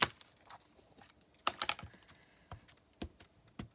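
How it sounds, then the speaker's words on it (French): Rubber stamp pressed onto paper while making cards, several sharp, separate taps and knocks at irregular moments, close and fairly faint. "On va se tamponner le petit crabe pour voir"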